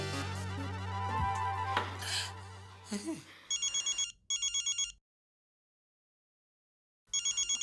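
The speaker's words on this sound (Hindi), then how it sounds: "आनंद दादा का फोन।" A telephone rings in short repeated electronic trills after some talk and clatter, then falls silent before ringing again.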